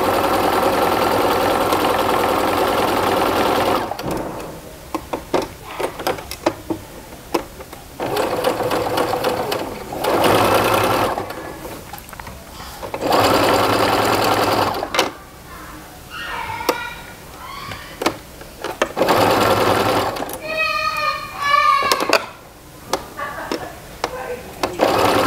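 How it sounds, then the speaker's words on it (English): A sewing machine runs a quarter-inch basting stitch end to end along a garment strap seam. Loud sustained runs of the motor are broken by short pauses and handling noise, with no talk. "Now I'm going to run a basting stitch from end to end of this entire, we're just going to treat it like it's one piece now."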